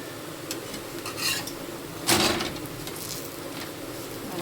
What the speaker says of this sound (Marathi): आणि राहिलेले भांडे वगैरे घासायचे स्वयंपाक केलेले.